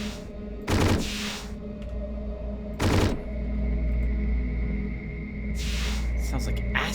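Enemies in the video game Hedon fire acid in three sharp, hissing bursts spaced a couple of seconds apart over a low steady drone, fairly close and loud.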